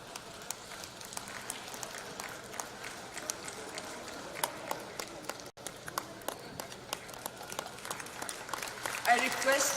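An audience at a felicitation ceremony for former High Court chief justices and judges claps, with scattered, sparse, faint claps and a brief dip before it swells slightly louder near the end.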